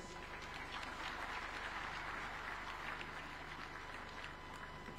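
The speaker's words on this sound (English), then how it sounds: "Another super applause for our host." Steady applause from a large crowd at the official opening of the Devolution Conference in Homa Bay, a continuous wash of clapping that holds at an even level throughout.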